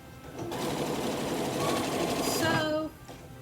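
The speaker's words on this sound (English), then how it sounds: "I'm going to sew, and then back stitch" A sewing machine runs steadily through fabric for an upcycled skirt made from a mermaid dress, a continuous close whir lasting nearly three seconds before it stops.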